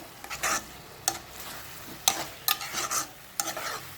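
Drumstick curry ingredients, including drumsticks, are stirred in a pan, giving several separate scraping strokes with light sizzling between them, close and fairly clear.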